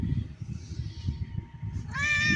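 A female cat lets out one clear, close meow near the end, after a stretch of low, faint rustling and shuffling outdoors by a riverside.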